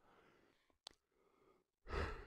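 A person yawns during a grade 9 maths lesson, a soft breathy exhale that swells briefly near the end, quiet and close, after a small click.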